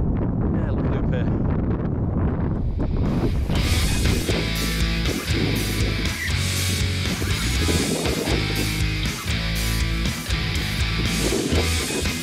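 Strong wind on a Peak District hilltop near Kinder Low, Derbyshire, buffets and roars across the microphone in rough gusts, with muffled voices faintly under the noise.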